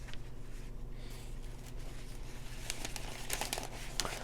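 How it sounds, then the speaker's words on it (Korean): Flower wrapping paper crinkled and folded by hand while wrapping a hydrangea bouquet, soft close rustling with brighter crackles toward the end, under a steady low background hum. "그리고 잘랐던 날개를 또 살짝 접어줍니다"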